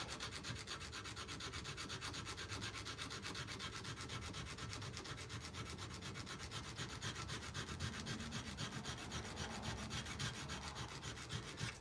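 Steady abrasive grinding of a steel knife blade bevel against a leather-backed abrasive, continuous rough rasping that holds an even level throughout, close up with no voices.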